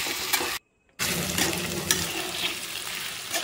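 Small chicken pieces sizzle steadily in a hot pan, close up, with a brief silent gap and occasional stirring scrapes; no voices.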